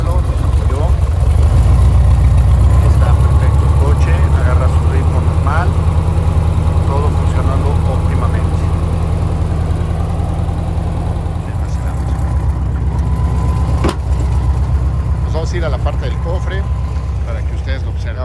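A 1999 Volkswagen Sedán (Beetle) engine idles with a steady low rumble throughout, while someone talks over it.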